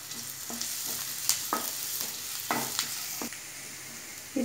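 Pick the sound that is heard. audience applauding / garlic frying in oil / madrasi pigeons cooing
garlic frying in oil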